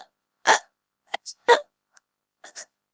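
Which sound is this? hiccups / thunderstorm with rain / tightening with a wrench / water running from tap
hiccups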